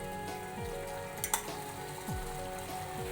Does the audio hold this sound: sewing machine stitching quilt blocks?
no